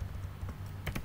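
Keys clack on a computer keyboard while code is written, a few quiet, close taps near the end over a low steady hum.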